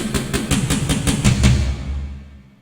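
Keyboard played with a single finger, about eight evenly spaced, slightly mechanical notes in a close steady rhythm, ending in a lingering low tone and fade.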